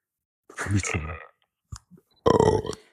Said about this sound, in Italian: Ti puoi spostare a fare i rutti, grazie.